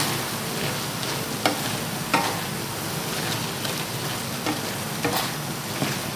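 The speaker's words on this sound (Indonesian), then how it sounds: "Ni saya nak biarkan ianya tu merenih lagi." Taro stem curry with kesum leaves bubbling in a pot, a constant soft hiss with occasional faint clicks and taps of a utensil, close and even, with no voices.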